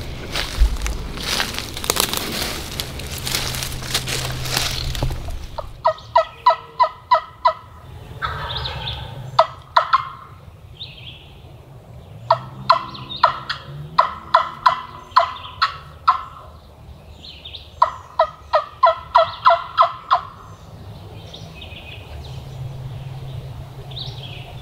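A wild turkey in Kentucky gobbles repeatedly in sharp, rattling bursts, several volleys spaced a few seconds apart, moderately distant over quiet outdoor ambience after an initial noisy rustle.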